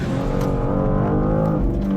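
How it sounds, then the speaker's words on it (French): A BMW M2 G87 driven hard on the Le Mans circuit, its engine a loud, close, continuous roar that holds steady and full-bodied throughout. "On va conduire cette M2 sur circuit."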